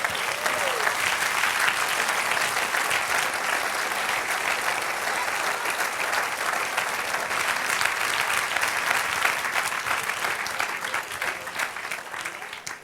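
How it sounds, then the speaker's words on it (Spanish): A church congregation applauds at a sermon service, producing a sustained, fairly loud patter of many hands clapping that holds steady and tapers slightly near the end. "Dale un aplauso al Señor."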